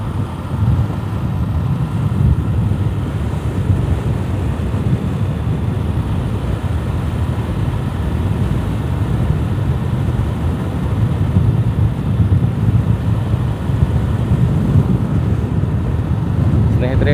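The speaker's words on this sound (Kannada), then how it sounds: "ಗಾಳಿಯ ಒತ್ತಡ ಹೇಗಿದೆ ಇವತ್ತು?" Strong wind buffets the microphone on a forest road through bamboo thickets between Siddapur, Kansur and Sirsi, a steady low roaring rush that fills the whole stretch without pause.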